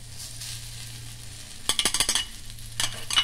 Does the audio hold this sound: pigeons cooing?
no